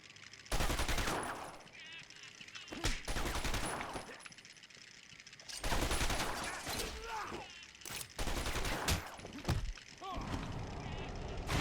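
Bursts of game gunfire aimed at Batman in Arkham Asylum's greenhouse, loud and sustained, with rapid volleys and short pauses between barrages.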